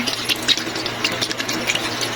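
Water pours steadily from a tap into a pot for boiling chicken, a continuous splashing rush with a few bubbly gurgles, close and moderately loud.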